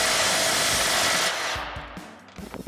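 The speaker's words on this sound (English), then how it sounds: "I've got my 21mm socket and a 24mm socket on the nut side" A socket wrench works loose the lower control arm bolt nut on a Jeep Wrangler JL using 21mm and 24mm sockets, a loud dense rattling burst that stops abruptly, then a few scattered clicks and knocks.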